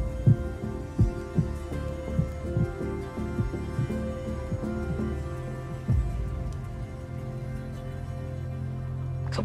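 A heartbeat sound effect thumps in slow, regular double beats, deep and close, over a low droning hum that swells toward the end.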